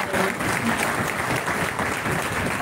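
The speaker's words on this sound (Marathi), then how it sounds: "त्यांच्यासाठी पुन्हा एकदा आपण टाळ्या" Dense, sustained applause from a large audience at a college alumni gathering, loud and steady throughout with no pauses.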